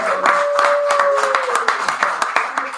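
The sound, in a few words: applause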